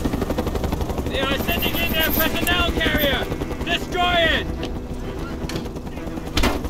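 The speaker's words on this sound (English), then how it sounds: "Enemy helicopter incoming!" A helicopter's rotor thrums under excited shouted voices in the video game Mercenaries 2, with occasional sharp bursts.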